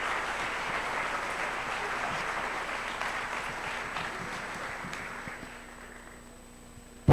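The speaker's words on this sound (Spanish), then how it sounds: "Darle un fuerte aplauso a Jesús Ortega Martínez." Sustained audience applause at a political forum on coalition government, steady and dense through most of the stretch before tapering off near the end.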